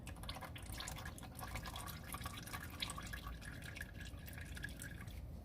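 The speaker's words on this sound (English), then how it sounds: "now that it's loose, we're just going to spin it off, and as you can see, it's draining" Engine oil trickles and drips steadily from an engine after its oil filter is spun off during an oil change, a continuous close liquid patter with no talk.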